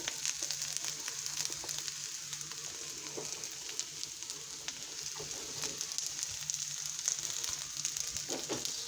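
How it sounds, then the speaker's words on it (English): Thinly sliced cabbage frying in a pan with browned onions gives a steady, close hiss and sizzle with small crackles throughout, and no one speaks. "Now we're gonna go ahead and drop in our cabbage."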